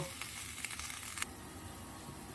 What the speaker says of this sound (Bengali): এবার মশলাটা ভালো করে ফুটিয়ে নেব